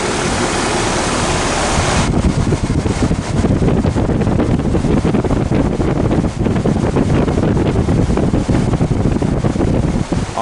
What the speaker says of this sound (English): this is an 1100 RPM fan motor, so this should be pretty strong air